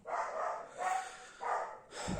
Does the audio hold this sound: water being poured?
no